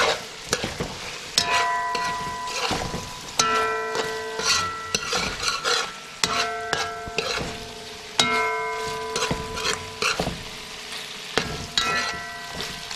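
Onions, celery and scallions fry in a pan while being stirred, giving a steady sizzle broken by repeated scraping and clinking of a utensil against the pan, close and moderately loud, with no talking.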